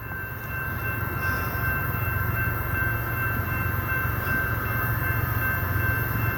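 A CSX coal train approaches through Mount Airy, giving a steady, loud rumble of rolling rail cars that holds evenly throughout, with no voices heard.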